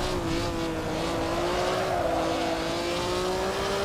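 Maserati race car in a racing sim, its engine droning at a steady high pitch and slowly shifting in tone, with tire noise underneath, loud and continuous with no talking.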